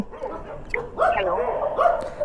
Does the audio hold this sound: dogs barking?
yes